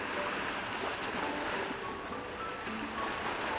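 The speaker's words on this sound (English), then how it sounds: "why do I hear waves on your end?" Ocean waves heard over a phone call in a video game, a steady, moderately loud wash of surf with a little wind noise running without a break and no talking.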